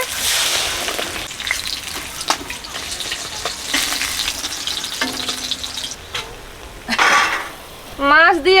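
Water poured into a hot pan of banana stem bursts into loud, steady sizzling and frying, with stirring scrapes and clinks of utensils against the pan and a brief voice near the end.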